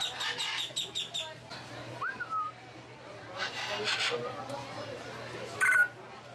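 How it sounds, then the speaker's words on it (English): A bird at Gatorland gives a few faint, brief chirps and a short whistled note amid outdoor crowd murmur, with people chatting nearby. "you got this beautiful bird over here, just making majestic little sounds."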